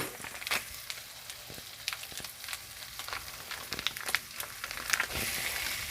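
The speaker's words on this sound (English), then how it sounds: "now I am going to add my coconut cream to my sauteing pan" Coconut cream hitting a hot sauté pan for mackerel run down, giving a steady close crackle and sizzle with scattered pops and scrapes throughout.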